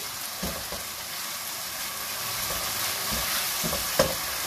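Beef keema cooking on high heat in a pan, a loud continuous sizzle with occasional stirring scrapes and a small clink near the end, close up and without voices.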